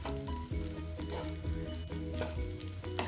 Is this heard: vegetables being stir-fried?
yes